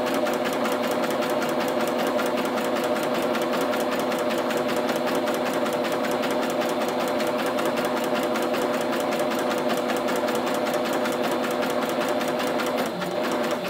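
Up close, a sewing machine sews a seam with a continuous, loud, rapid mechanical whir that never stops.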